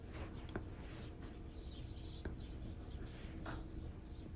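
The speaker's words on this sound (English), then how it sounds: "Y'all hear the birds?" Faint bird chirps ring out sporadically over a noisy rumbling background, a few short high calls spread across the clip.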